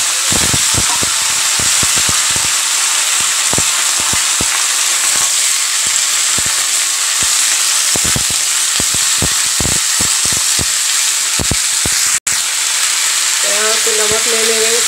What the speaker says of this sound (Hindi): देख सकते हैं मिर्ची भुन गई है